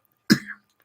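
A single short, throaty cough from someone getting over a cold, close and isolated against silence.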